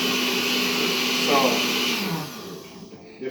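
A kitchen blender grinds ingredients for Nigerian jollof rice, a loud steady whirring that wavers in pitch for about two seconds before spinning down and fading to quiet.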